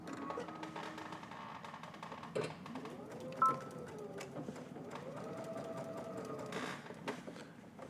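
A sewing machine stitching quilted fabric, with a steady close mechanical whir and rhythmic motor pitch that rises and falls as the stitching runs, fairly quiet throughout.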